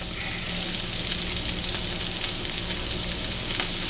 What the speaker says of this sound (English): Give them a stir around. So they can be cooking in all that goodness.